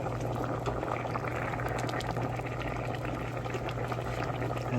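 Spaghetti boiling in a pot of water during a cooking contest, a continuous dense bubbling rumble that stays steady and fairly close, with no talking.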